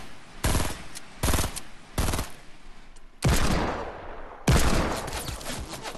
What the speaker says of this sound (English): getting shot from the right